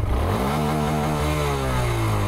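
A motorcycle engine revs close by, a loud rising and falling mechanical roar with steady throttle blips over a couple of seconds and no talk.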